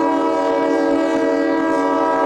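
A White Pass & Yukon narrow gauge train arriving at Carcross, Yukon, sounds its horn in a loud, sustained, harmonic blast heard up close over a low rumble of the moving train.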